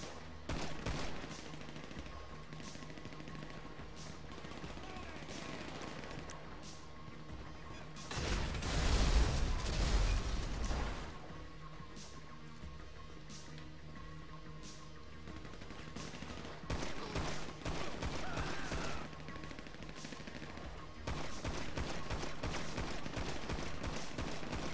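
Gunfire in a GTA V survival match: a dense burst of shots and crashing impacts erupts midway, with quieter rapid pops and clicking game sounds scattered before and after.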